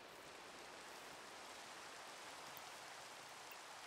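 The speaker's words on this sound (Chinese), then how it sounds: "啊，外面又下雨" Steady, soft rain falls in the video game Minecraft, an even hiss of fine drops that holds at the same faint level throughout, with no voices.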